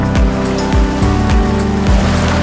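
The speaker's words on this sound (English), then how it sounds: "the waves are so powerful" Powerful ocean waves at the beach in Puerto Escondido, a loud continuous roar of surf with rhythmic low thumps as swells break, close and steady throughout.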